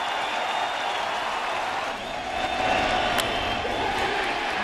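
A thinned-out crowd at a baseball stadium during the late innings of an ALDS playoff game cheers steadily, a continuous distant roar of voices and applause with no clear breaks.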